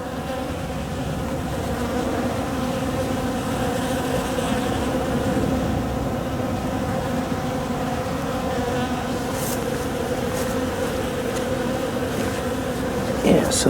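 A continuous, close drone of honeybees fills an opened hive during a late-December winter inspection, steady throughout with a brief clatter near the end.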